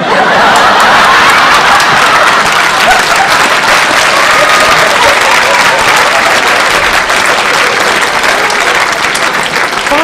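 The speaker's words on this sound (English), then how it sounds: "rounds of applause" Sustained, dense applause from a large audience at a motivational speaking event, loud and steady for the full stretch with a few scattered chuckles and cheers mixed in.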